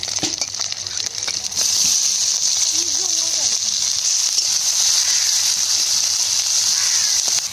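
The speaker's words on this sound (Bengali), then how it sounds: "মাছটা লাল লাল করে ভেজে নিয়েছি, এবার পেঁয়াজ কুচি দিয়ে দেবো।" Chopped onion hits hot oil in a pan with already fried dried fish, and the quiet frying swells into a loud, steady hiss and sizzle that continues without a break.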